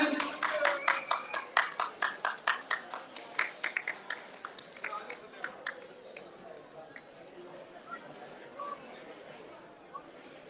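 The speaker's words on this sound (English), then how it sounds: "Have a big round of applause for them." Scattered clapping from a small audience at a diabetes awareness fundraising event in Sydney, greeting the platinum sponsors: sharp distinct claps for about six seconds, thinning and fading out as background chatter and room murmur continue.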